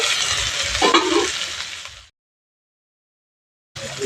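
Broccoli fries in an open pan with a dense, steady sizzle for about two seconds, broken by a faint stirring scrape. Complete silence follows, and then the sizzle returns briefly at the end.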